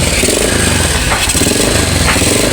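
A kick-started motorcycle engine runs steadily and loudly up close, a dense, continuous rumble with no pauses.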